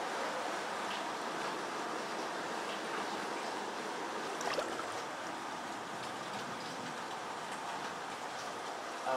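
Floodwater pours and rushes steadily through a flooded house, a constant broadband wash with a brief louder splash midway and no talking.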